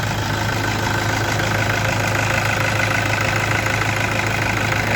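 A 2005 Toyota Vigo pickup engine runs steadily and loud up close, a constant mechanical drone with knocking texture and no clear rise or fall in pitch, heard alone without voices.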